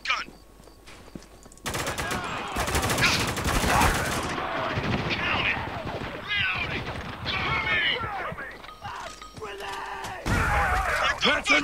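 Loud shotgun and automatic gunfire in the shooter Spec Ops: The Line, repeated sharp blasts that come in clustered bursts, with shouted voices over the shooting.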